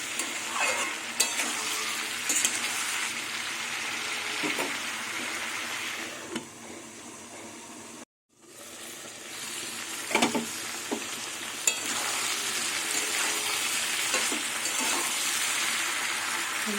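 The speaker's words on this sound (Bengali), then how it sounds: "মাঝে মাঝে ঢাকনা সরিয়ে নাড়াচাড়া দিয়ে নেবো" Mixed vegetables with drumsticks cooking in a pot, stirred now and then; a steady sizzle and simmer runs throughout with scraping stir strokes, a brief near-silent gap as the lid comes off, then continued bubbling and stirring.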